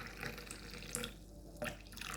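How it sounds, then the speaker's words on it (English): Cooled homemade fat-burning tea is poured into a bottle, a faint, steady trickle of liquid running for about two seconds with a couple of brief splashy accents. "The rest I'm going to cool it down and put it into a bottle"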